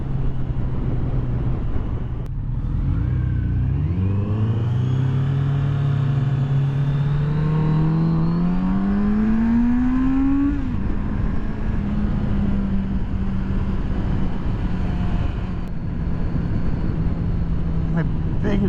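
A 2023 Kawasaki Z900RS Cafe motorcycle engine pulls loudly while riding, its pitch climbing through the gears before settling into a steady cruise drone, with constant wind roar throughout.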